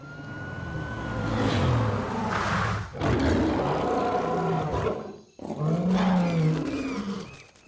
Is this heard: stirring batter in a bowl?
no